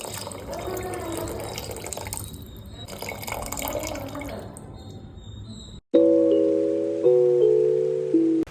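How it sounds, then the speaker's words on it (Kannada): Water pours and splashes into a pot for cooking rice for several seconds, then stops, followed by a sustained ringing metallic tone. "ಇದ್ರದ್ದು ಡಬಲ್ ಅಲ್ರಿ ಆರು ಬಟ್ಲ ನೀರು ಹಾಕೋಬೇಕು"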